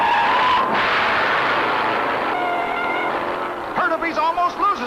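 Stock cars racing in the 1966 Daytona 500 at Daytona International Speedway as one car nearly spins out, a loud roaring engine whine with a tyre squeal, then a voice cutting in near the end.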